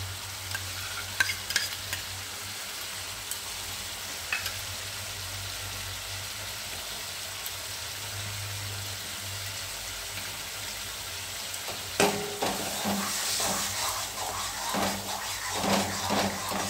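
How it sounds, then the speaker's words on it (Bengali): Beaten sour yogurt goes into a pan of sizzling rajma masala and is stirred in, with a steady frying hiss under scraping spoon strokes that grow busier and louder toward the end. "4 চামচি দই ভালো করে ফেটিয়ে এতে দিয়ে দিচ্ছি।"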